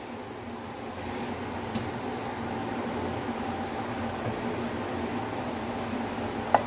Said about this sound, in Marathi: तर चला आपण हे मसाला वाटून घेऊया